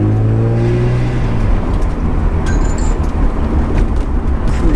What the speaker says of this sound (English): I'm gonna put the windows down now and keep cruising around